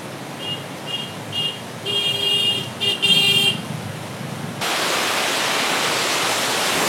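Amboli waterfalls in dense forest along Amboli Ghat send up a steady broadband rush of water that swells louder in the last seconds, after brief vehicle horn toots and traffic noise earlier.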